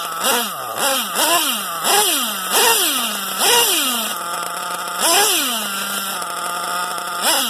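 A Novarossi Rex 28 nitro engine running rich with a conical header revs in repeated bursts, each blip rising sharply and sagging back to a buzzing idle, loud and close, a rough whining rasp with no talking.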